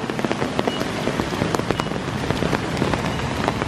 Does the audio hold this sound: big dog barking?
no